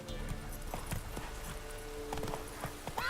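Roach the horse's hooves clip-clopping at a steady walking rhythm in The Witcher 3, close and fairly loud over soft ambient background with a faint voice.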